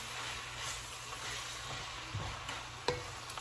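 A Costco stir fry with sauce sizzles steadily in a hot pan, a close, even hiss broken by a couple of sharp utensil taps and stirs near the end.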